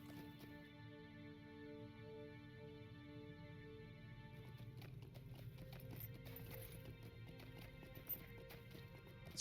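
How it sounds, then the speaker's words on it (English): Horse hooves clip-clop steadily as a mount is ridden through a mountain pass in the Lord of the Rings Online video game, a continuous rhythmic trot over layered background music with a brief whinny. "Oh, there's an invisible man on a horse."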